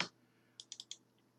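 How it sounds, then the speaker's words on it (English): A computer keyboard clicks as a name is typed into a score card file: one soft thump, then four quick, crisp keystrokes in a short burst, close and otherwise quiet. "start typing Davis"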